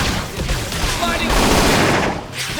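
Game gunfire and combat effects from Xenoblade Chronicles X, a dense continuous barrage of shots and impacts lasting throughout, loud and busy, with voices calling out over the action.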